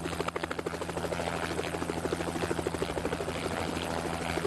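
A helicopter hovers over a Giro d'Italia road stage from Matera to Brindisi, its rotor throbbing in a fast steady pulse with a sustained engine whine, loud and close throughout.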